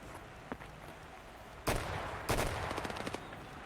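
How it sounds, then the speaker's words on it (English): Gunshots from Raiders in a competitive video game match: a few sharp, loud shots and short rapid bursts crack out in quick succession, close and dry, with little else around them. "You hear all the shots of the Raiders aggroing."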